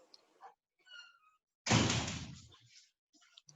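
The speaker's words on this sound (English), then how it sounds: "let me close the door here" An indoor door swings shut with a single loud thunk, preceded and followed by quiet shuffling and small handling noises.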